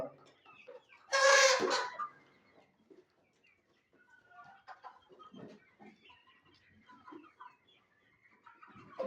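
A loud squawk from a desi hen, then scattered soft clucks and small calls from nearby chickens over a quiet background.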